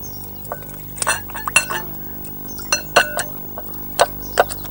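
A spoon clinks against a bowl while a chickpea flour, chaat masala and lemon juice marinade is mixed, giving scattered light taps and scrapes in uneven rhythm, close and fairly quiet, with no talk.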